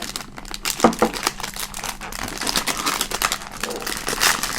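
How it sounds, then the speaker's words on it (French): Plastic sachet of Meiji Kinoko no yama or Takenoko no sato biscuits being torn open and handled, a steady close crinkling and rustling that swells near the end, with no talking. "Et donc, on va ouvrir ce beau sachet"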